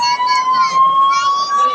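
An ambulance siren sounds amid a crowded temple setting at Tiruchendur, a loud, steady wailing tone with higher warbling overtones over background crowd noise.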